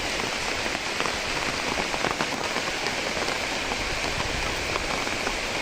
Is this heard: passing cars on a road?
no